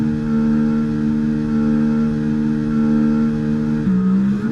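Williams FW46 Formula 1 car with an old engine in the F1 2024 video game at Monza, a loud sustained high-revving engine drone close up, pitch dropping near the end as it shifts.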